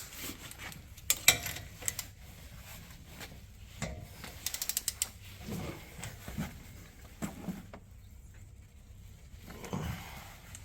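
A ratchet clicks in quick short runs while tightening brake caliper slider pins on a 2018 GMC Silverado 2500/3500, with scattered metallic handling noises between bursts, close and moderately quiet.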